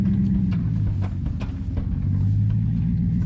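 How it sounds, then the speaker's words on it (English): Low rumble of a car drive shaft running continuously, close and steady with a few faint higher clicks and no talking. "That sounds like a drive shaft."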